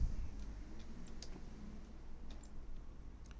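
Light, quick clicks of a computer keyboard come from someone typing PHP code: faint, irregular keystrokes tapping alone over a low steady background hum.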